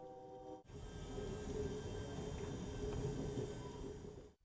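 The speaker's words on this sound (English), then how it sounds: "Now we're moving away from the train station." A passenger train pulls away from the Houston station, a steady rumbling roll of wheels and car noise after a brief pause, continuous and close, with no voices.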